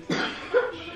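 A child's short coughs, two quick bursts close to the microphone, then quiet.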